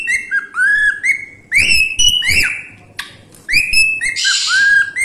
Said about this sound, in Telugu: చూసారా ఎంత చక్కగా హమ్ చేసుకుంటూ పాడుతుందో, బాగుంది కదా.